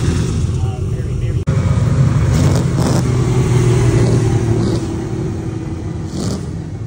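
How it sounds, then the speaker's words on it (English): Classic Ferrari engine revving hard at a car show, a loud continuous throaty roar filling the whole stretch with rising bursts of throttle and a brief gap early on. "This guy's getting gassed back here."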